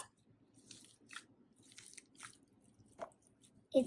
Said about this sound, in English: It's a very, very, very, very crunchy pink slime.